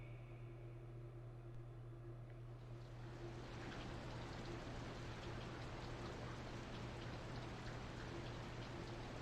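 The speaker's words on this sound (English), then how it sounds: "It's been raining all day." Steady rain falls in the role-playing video game Skies of Arcadia: Legends, a soft, constant hiss of drops over a low hum that grows slightly fuller after a few seconds and continues evenly with no talk.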